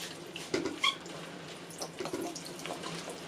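A tap runs into a sink while a makeup brush is rinsed under it, a soft steady splashing stream with small drips and brush sounds, fairly quiet and close, with no talk.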